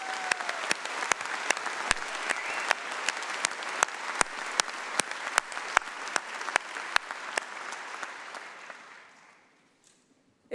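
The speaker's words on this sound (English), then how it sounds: "this will be the first of many rounds of applause for you" Sustained applause from a large audience at a university graduation ceremony, steady and dense for about nine seconds before fading out to near silence.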